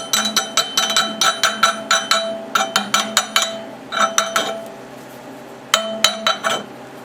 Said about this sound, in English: we'll knock some slag off it. I got a chipping hammer here